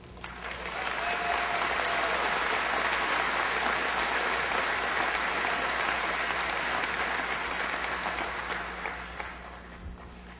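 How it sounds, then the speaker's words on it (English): Sustained audience applause for the graduates at a Mount Aloysius College commencement, a dense wash of clapping from a large crowd that swells quickly, holds steady and tapers slightly at the close. "I believe that my fellow graduates deserve a round of applause."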